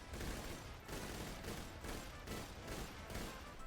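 Rapid video-game gunfire aimed at a boss in FFYLands Melee Zero, a steady stream of shots in repeated bursts with short gaps between, loud and filling the scene with no voices.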